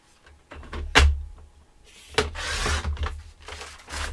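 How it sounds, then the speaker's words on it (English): Paper being cut for a handmade outdoors journal and photo album: soft, quiet scraping and rasping strokes come in uneven bursts, with a few sharper catches, close to the mic and no talking. "I'm going to cut it"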